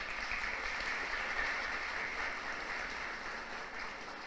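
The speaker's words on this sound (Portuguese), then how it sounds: "aqui eu peço uma salva de palmas" Applause from an audience at a literary festival in Bananeiras, Paraíba, a faint steady wash of clapping from a distant crowd, sustained throughout with no talk.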